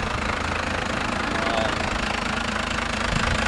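A 1993 Cummins turbo diesel truck engine idles a little low, making a steady, close, knocking rumble with constant broadband clatter and no pauses.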